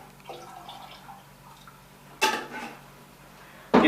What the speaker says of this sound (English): And simply pour it in your resi.